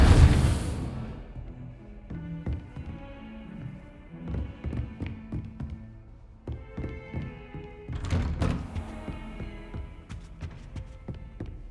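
Reparo, the repair spell in Hogwarts Legacy, sets off a scattered series of wooden knocks, thunks and clattering taps over several seconds as pieces fall back into place, opening with a brief whoosh.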